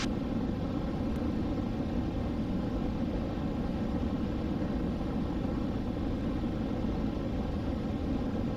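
Steady broadband engine and propeller drone inside the cabin of a Cessna Skyhawk light airplane flying low over hills, loud and unbroken throughout with no talk.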